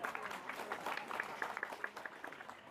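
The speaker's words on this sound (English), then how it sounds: "Let's give our volunteers a round of applause" An audience at a zoo show claps steadily in applause for volunteers, a dense patter of many hands at moderate distance with no talking over it.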